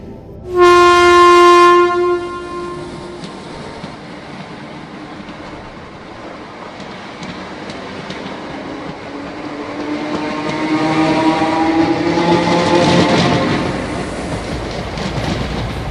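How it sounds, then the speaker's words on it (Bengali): A slow passenger train on the Bardihi to Dehri-on-Sone line rolls along with rhythmic clickety-clack over the rails. It opens with a brief loud horn blast, then the rumble builds, swelling louder toward the end. "টিকটিক করে চলা গদাই লস্করি প্যাসেঞ্জার ট্রেন"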